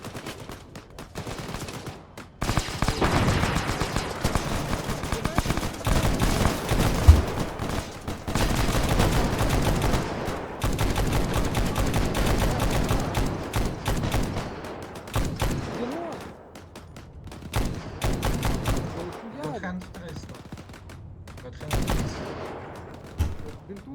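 Dense bursts of rapid gunfire in the video game Arma 3, loud and continuous with brief lulls, sounding like machine guns and rifles in a chaotic firefight.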